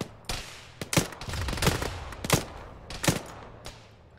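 Gunfire in the military video game Arma: several sharp, loud close shots and short bursts spaced irregularly across the stretch, with no talk over them.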